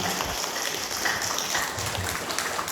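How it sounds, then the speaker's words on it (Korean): Audience at a Korean folk performance troupe show giving a burst of applause, a dense patter of clapping heard at moderate distance. "협찬 박수 한번 해주십시오."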